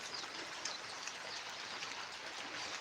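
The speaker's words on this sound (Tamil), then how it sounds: "அப்படியே சோன மழை மாதிரி அப்படியே நிறைய பேஞ்சிட்டே இருக்குதுங்கண்ணா" Steady light rain falls continuously as an even, soft hiss with scattered faint drops, quiet and uniform throughout, with no voices.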